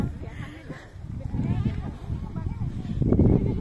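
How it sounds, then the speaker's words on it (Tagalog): A goat on a rural farm bleats in short wavering cries while a person talks loudly over the animal and the wind. "Tinatawag ka ng kambing."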